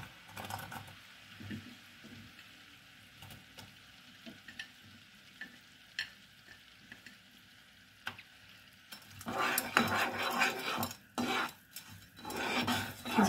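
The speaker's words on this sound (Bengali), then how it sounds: "এটাকে আমি এবার হাই ফ্লেম করে দেবো। গ্যাসটাকে ভালো করে ফুটতে দেবো, যাতে একটু এটা আঠা আঠা হয়ে আসে।" Apple chutney sugar syrup with raisins cooks on a high gas flame, starting with faint stirring clicks that give way to louder, dense bubbling and sizzling in the last few seconds.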